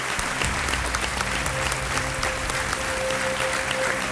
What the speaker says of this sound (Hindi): तालियों के साथ स्वागत करते हैं हम सुलखान सिंह जी।